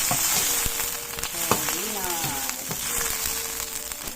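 Spinach and sardines with lemongrass sautéing in a pan, a steady close sizzle with scattered pops and scraping, faint voices murmuring underneath.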